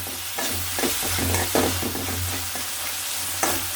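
Onions sautéing in a stone pan for an egg stir-fry, a close continuous sizzle with repeated spatula strokes and scrapes, a low steady hum running underneath.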